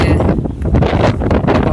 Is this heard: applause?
no